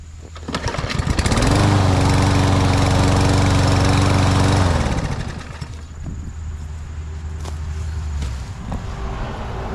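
A lawn mower engine catches and roars loudly for a few seconds, then settles into a quieter, steady running hum close by.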